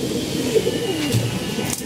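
A pigeon coos close by in low, rolling, throaty phrases that carry on steadily against a faint background hiss.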